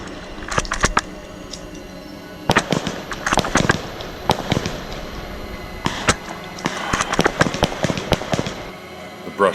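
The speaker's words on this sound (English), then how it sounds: "I try to mask my shots with his blank fire rounds." Blank-fire rounds and rifle shots ring out during a Grozny-themed airsoft milsim battle in thick brush, sharp loud cracks arriving singly and in rapid clusters over a steady outdoor background.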